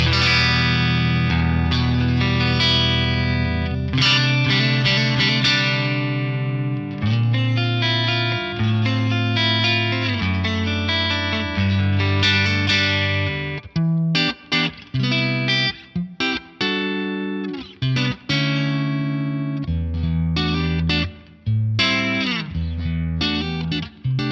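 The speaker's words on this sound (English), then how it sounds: "Let's grab the SDD preamp, which is a model of the preamp section of the Korg SDD 3000 delay" An electric guitar runs through a model of the Korg SDD-3000 delay's preamp section on an Axe-Fx III, giving a driven, effected tone with chorus-like shimmer and echo, played in chords and riffs with pauses and choppy stops.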